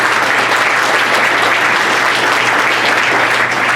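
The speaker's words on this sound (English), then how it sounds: "A round of applause for them, please." Audience applause for a sponsor at a university president's lunch event; loud, dense and steady clapping from a large seated crowd, filling the room evenly with no talk over it.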